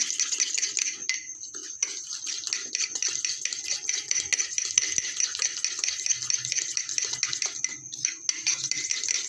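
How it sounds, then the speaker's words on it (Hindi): Instant coffee, sugar and a drop or two of water whisked by hand in a cup: rapid, steady clinking and scraping of a spoon against the vessel, close and continuous with no talk. "जब कॉफ़ी चीनी डालें तो उसमें थोड़ा सा पानी 1-2 ड्रॉप जो है वो डाल दें और फिर फेंटना स्टार्ट करेंगे आप"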